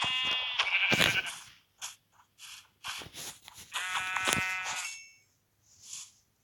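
Farm sheep bleat repeatedly and close by, two long wavering calls with shorter bleats between and a fainter one at the end.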